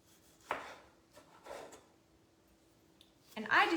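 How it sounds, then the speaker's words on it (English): A knife cuts a tomato on a cutting board for a Greek salad, giving a few separate soft taps and slices spaced about a second apart, with a louder scraping cut at the end. "Cut our tomato."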